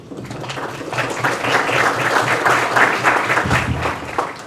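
Sustained applause from an audience at a university-law discussion event, a steady dense patter of many hands clapping at close range, holding even throughout without voices.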